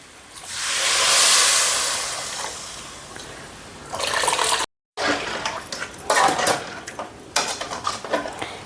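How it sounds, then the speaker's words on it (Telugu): Tamarind juice poured into a pot of hot oil while cooking a Telangana-style taro curry: a loud hissing sizzle swells and fades, then breaks into softer splashes and bubbling, with scattered clinks. "ఇది ఇప్పుడు చింతపులుసు పోసుకుందాం"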